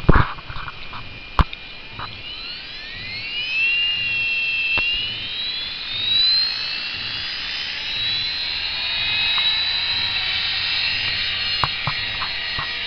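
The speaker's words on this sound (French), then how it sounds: "Sylvain, avec son hélicoptère." A Trex 450 radio-controlled model helicopter flies overhead, its high, whining rotor and motor pitch sliding up and down as it climbs and circles, steady throughout with a few sharp clicks and no speech.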